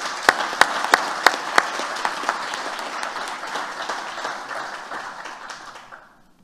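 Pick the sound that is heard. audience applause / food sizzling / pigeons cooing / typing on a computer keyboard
audience applause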